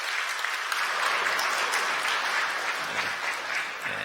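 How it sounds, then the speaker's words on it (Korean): A church congregation at a Sunday service applauds to welcome a baby, giving a full, even round of clapping that holds steady for several seconds, with no talking. "여러분들 박수 한번 보내주시죠."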